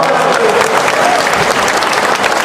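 An audience at a speech gathering applauds, dense continuous clapping close and loud throughout, with a hint of voices mixed in.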